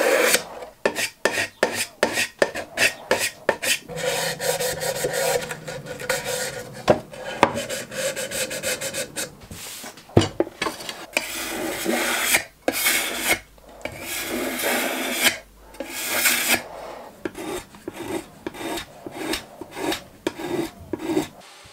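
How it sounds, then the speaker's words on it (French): A hand rasp or file works the corner edges of a wooden piece, giving a run of close, rhythmic scraping strokes that shift into longer, steadier rubbing passes, close and fairly loud with no voices. "Maintenant, je peaufine la tranche au niveau des angles."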